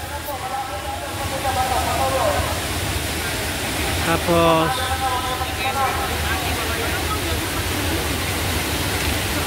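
Taytay Falls in Majayjay, Laguna roars as a steady, broad rush of falling water, with a voice speaking briefly over it.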